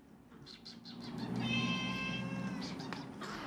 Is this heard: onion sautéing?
no